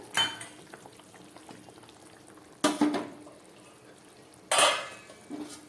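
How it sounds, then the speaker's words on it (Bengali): Fish curry broth simmering in a pot with drumsticks and tomato added, a steady low bubbling broken by three louder splashy bursts as ingredients drop in and are stirred. "ঝোলটা ফুটে উঠেছে"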